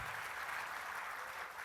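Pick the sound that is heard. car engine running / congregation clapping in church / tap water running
congregation clapping in church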